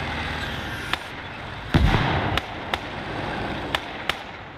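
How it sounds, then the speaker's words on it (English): Mortar shells explode in the World War II strategy game Call to Arms: Gates of Hell on the Eastern Front, with one heavy nearby blast among several sharp, distant impacts over a constant battlefield rumble. "Someone actually using a mortar against us, that's brave."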